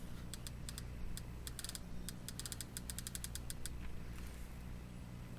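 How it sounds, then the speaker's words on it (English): A roll of paper is fitted into a Game Boy Printer, producing quiet, sparse plastic clicks and ticks in short bursts over a low background hiss. "So the next thing to do is install the roll of paper."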